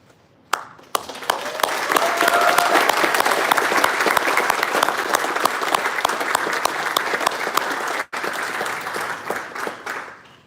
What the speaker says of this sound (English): Everyone, please give another round of applause for all our promotees and award recipients.